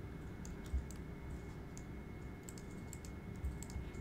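A computer keyboard and mouse click lightly in quick, scattered bursts over a steady hum, close but soft, with no one talking.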